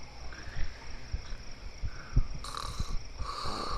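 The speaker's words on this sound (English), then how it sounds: "Who's snoring?" Faint, low rumbling snores from a sleeping character in Final Fantasy X HD, a few soft breathy pulses over quiet ambient game background.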